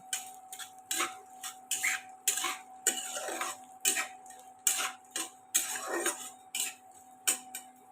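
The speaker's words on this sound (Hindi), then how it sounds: "गोंद को हमें अच्छे से भून लेना है" Edible gum (gond) roasting in a pan for date laddoos, heard as a series of sharp metallic clinks and scrapes of a spoon against the pan in an irregular rhythm, with a steady tone running underneath.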